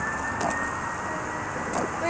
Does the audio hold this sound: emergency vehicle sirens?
yes